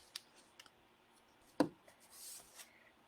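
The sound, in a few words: trimming overhanging cardstock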